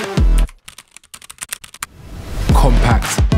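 Fingers type on a SteelSeries Apex Pro Mini Wireless, a compact wireless keyboard with adjustable switches. A quick burst of crisp, close clicks fills a short gap between louder voice-over passages.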